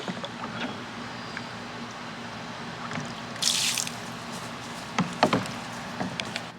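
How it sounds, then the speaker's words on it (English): A toddler splashes and plays in a Step2 Rain Showers Splash Pond water table outdoors, with soft dripping and trickling under light background noise, a brief burst of splashing midway and a few sharper splashes near the end. "Some serious water play right here."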